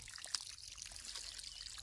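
A faint, steady trickle of irrigation water flowing in a farm field, soft and continuous with no voices.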